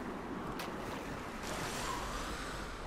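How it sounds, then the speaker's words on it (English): Ocean waves and surf in the game Don't Starve Shipwrecked, a continuous wash of breaking water with soft swells rising and falling, steady and fairly loud with no voices. "Wow, the waves are going this way."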